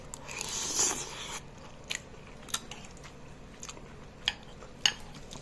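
Someone bites into chili garlic pasta topped with a soft egg and chews close to the mic, with a first crunchy bite followed by several soft, sporadic chewing and utensil clicks.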